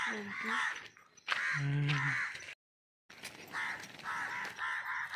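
Crows caw loudly and harshly outdoors on an early morning walk, several rough calls in quick bursts with a brief gap of silence, mixed with nearby voices talking.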